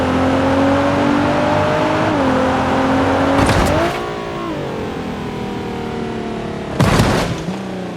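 A Nissan GTR engine in the BeamNG Drive driving game revs hard and close, its pitch rising and shifting over steady engine drone, with two brief bursts of loud rushing noise.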